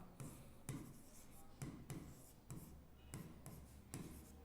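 Chalk or marker writing on a board during a maths lesson on permutations and combinations, soft rhythmic strokes and taps repeating about once a second, close and quiet.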